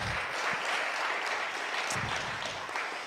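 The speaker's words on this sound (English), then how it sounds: "Can we give her a round of applause?" An audience at a Black History Month community gathering applauds a council staff member, a sustained wash of clapping at moderate level with a few sharper claps standing out, no voices.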